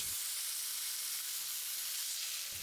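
Pork fat sears in a hot pan with a continuous, even sizzle and steady hiss, close and loud, with no voices.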